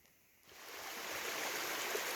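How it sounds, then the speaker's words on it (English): Steady rushing water of a stream and waterfall, starting quieter then swelling into a constant broadband roar close by. "Here's another beautiful stream plus waterfall."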